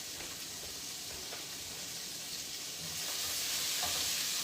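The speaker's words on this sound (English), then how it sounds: "Those are frying up." Food sizzles steadily in a hot pan, a continuous crackling hiss that grows slightly louder toward the end.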